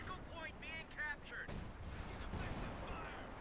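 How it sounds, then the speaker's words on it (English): Howitzer artillery fire in the strategy game Company of Heroes 2: a sudden heavy boom followed by a second thump, both under a rumbling battlefield background. "Got the howitzer firing again."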